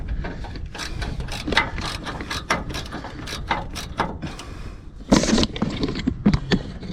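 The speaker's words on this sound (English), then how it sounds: "Don't see how much room I've got with the ratchet" Ratchet wrench working a control arm bolt on a 2005 Mazda Bravo / Ford Courier V6 ute: rapid close clicking bursts of the pawl, repeated in short strokes with brief pauses and a louder clatter near the end.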